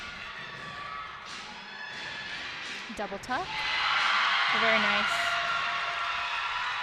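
A crowd in a college gymnastics arena, Missouri against Illinois, bursts into loud cheering and shouting after a routine, the roar swelling and holding after a commentator speaks briefly.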